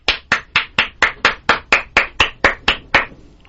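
Hand clapping, about thirteen evenly spaced sharp claps from one nearby person in a steady rhythm, loud with no voices.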